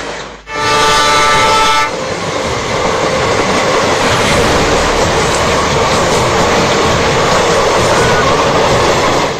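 Inside a carriage of a running Shatabdi Express passenger train, the loud, steady rumble and rattle of the moving coach with a brief horn blast near the start.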